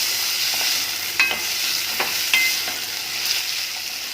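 Chopped onion frying in a couple of spoons of oil in a pot, a steady sizzle with a few clinks and scrapes of a spoon stirring it, close and continuous with no talk.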